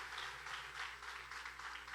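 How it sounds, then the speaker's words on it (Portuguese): A church congregation claps together in applause, a steady dense patter of many hands at moderate distance, fairly soft and continuous without a voice over it. "Uma salva de palmas por essa palavra"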